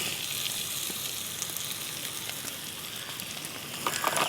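Papaya sautéing in a pan, with a soft, steady sizzle at moderate distance and a few faint stirring scrapes, picking up slightly toward the end.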